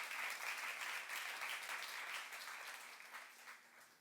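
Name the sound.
congregation applause in church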